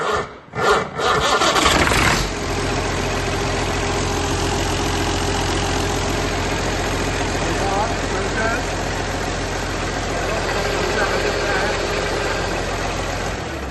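A restored Massey Ferguson 1250 tractor engine cranks and catches after a couple of seconds, then settles into a loud, steady diesel idle heard up close for the rest of the clip.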